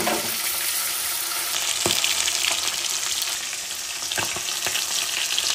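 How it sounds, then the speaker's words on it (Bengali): Sardines frying in hot oil in a home kitchen, a steady close sizzle and crackle with occasional sharper pops and spits throughout. "মাছগুলো একদিকে ভাজা হয়ে গেছে, উল্টে দেবো"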